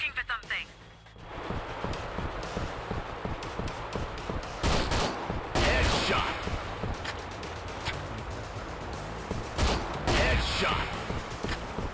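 Rapid gunfire bursts from the Android shooter game Fatal Raid, with repeated shots and mechanical clatter under steady game sound, loud and up close.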